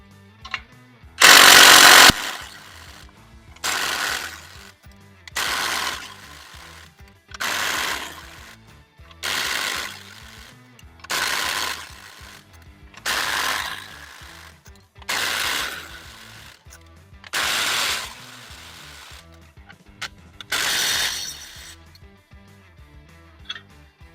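Nuts being moved on a portable steel Texas Star target assembly, heard as loud, regular bursts of ratcheting metal, each lasting about a second with short pauses between, roughly ten times in a row with no talking.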